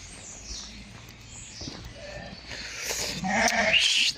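A flock of yearling breeding ewes in Beylagan gives several overlapping bleats that grow louder toward the end, with shuffling movement and a faint voice in the background.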